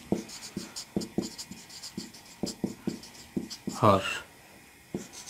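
Pen writing a fraction's numerator on paper during a class 9 math lesson: quick scratchy strokes and taps in irregular bursts, close and soft, with someone speaking in between.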